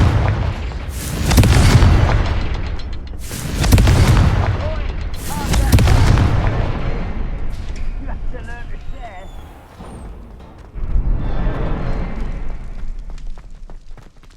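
Confringo blasting spell explosions in Hogwarts Legacy: three loud, heavy booming blasts about two seconds apart, each with a rumbling tail. Game ambience and a voice carry on beneath them.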